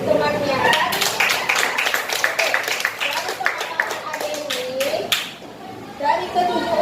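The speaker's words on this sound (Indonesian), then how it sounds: "Kasih aplaus buat temannya." Classroom of junior high students giving a classmate a round of brisk, scattered hand clapping that lasts several seconds, close and fairly loud, with a teacher's voice talking over it.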